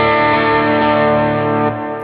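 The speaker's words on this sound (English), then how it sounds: "So I've got some overdrive happening there" An electric guitar chord rings out with warm overdrive like a cranked vintage tube amp, loud and sustained for about two seconds before easing off.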